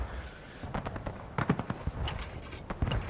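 Model 1842 musket and other gunfire in the Civil War video game War of Rights, a series of sharp cracks and booms at irregular intervals, some near and loud, others more distant.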